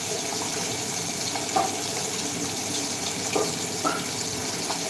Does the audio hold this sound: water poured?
yes